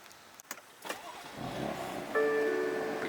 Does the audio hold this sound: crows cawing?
no